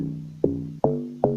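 Deep, layered amapiano log drum hits, two log drums played together in Caustic 3, thump three times in an even pattern, each note booming and fading quickly, loud and upfront without voices.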